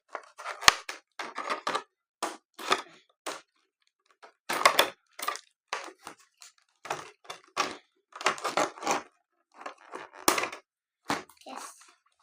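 Scissors cutting open the packaging of small mini collectible items, heard as a close series of sharp snips and crinkling plastic crackles in irregular bursts with quiet gaps between them.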